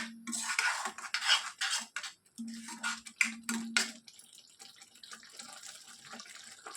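A utensil stirs coriander powder through okra kurma in a pan, with bursts of metallic clinks and scraping strokes in the first four seconds, then a quieter, softer stretch of faint rustling.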